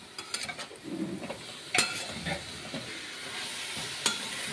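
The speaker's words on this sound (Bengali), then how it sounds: "ভালো করে আমি কষে নিচ্ছি।" Pumpkin and dried fish sizzle with spices and salt while being stirred and scraped in a pan, with a low steady fry and a few sharp clinks of the utensil against the pan.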